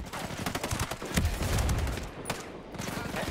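Gunfire in the tactical shooter Ghost Recon: Breakpoint, rapid automatic bursts and heavy shots crackling close and loud, with a deep booming impact partway through.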